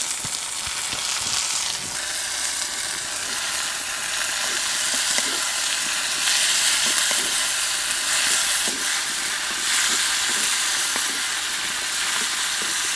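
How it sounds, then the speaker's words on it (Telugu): Onions, tomato, green chillies and tamarind frying in a pan for a chutney, a steady, loud, hissing sizzle with faint scattered stirring clicks throughout. "ఉల్లిపాయలు ఈ మాత్రం వేగాక టమాటా, పచ్చిమిరపకాయలు, చింతపండు కూడా వేసుకుందాం."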